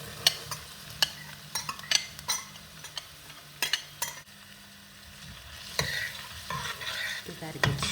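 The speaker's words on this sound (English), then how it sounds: "Give that a good stir. And let those cook up for a few minutes." Celery and carrots frying in a pan, stirred with a utensil that gives sharp scraping clacks over a soft, steady sizzle; the sizzle swells louder toward the end.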